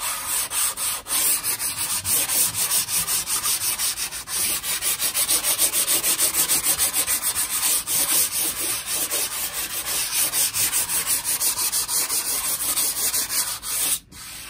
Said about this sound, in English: This is number 225 grit sandpaper. And I'm just sanding it down lightly.